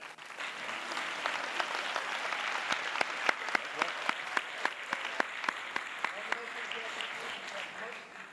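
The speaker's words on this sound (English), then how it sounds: "We can applaud that." A crowd at a school graduation ceremony applauds, a dense wave of clapping that builds and holds for several seconds with a few sharp individual claps standing out near the front.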